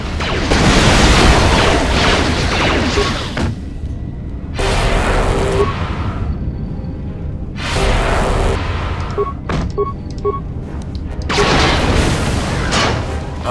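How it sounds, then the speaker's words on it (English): Ion grenade blasts in the KOTOR II game: four booming bursts, each lasting over a second, separated by short quiet gaps, with a few faint tonal blips between them. "Let's use some ion grenade."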